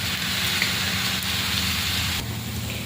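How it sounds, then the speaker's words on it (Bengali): Kalmi greens fry in a pan with salt and green chilli, giving a continuous close, even sizzle like rain on a surface, with no voices. "একটু লবণ আর কাঁচা লঙ্কা দিয়ে ভেজে নেব।"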